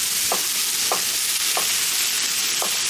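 Vegetables sizzle on a grill alongside turkey burgers in a steady, dense hiss with a few soft, regular taps over it. No one speaks.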